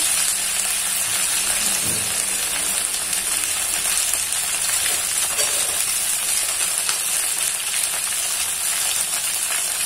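Pieces of rava edali frying in hot oil, a dense, loud, unbroken sizzle holding steady throughout with a soft knock near the start.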